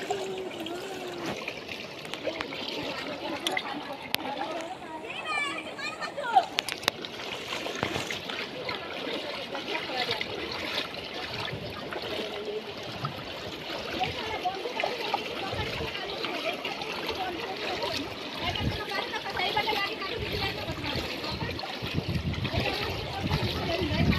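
Floodwater trickles and flows steadily into a village house, a faint continuous watery wash with occasional splashes, and voices talk quietly over it.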